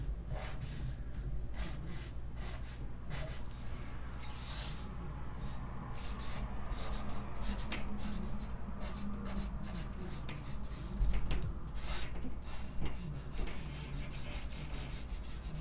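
A small pen draws short strokes on a coloring book page, close up and quiet, with soft scratchy scribbles and rubs in an uneven rhythm.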